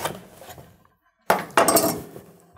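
A knife cutting a peeled butternut squash in half on a board: a hard, clinking crack of the blade through the dense flesh, then a second loud knock and scraping as the halves come apart, close and alone.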